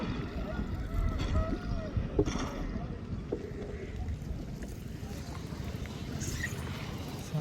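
A small rowboat gliding through a water lily lagoon at Malarikkal, with quiet watery movement and soft wind noise, at a low, even level.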